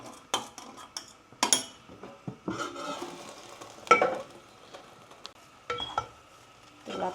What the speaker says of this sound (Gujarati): તો લાપસીને મિક્સ કરી દઈએ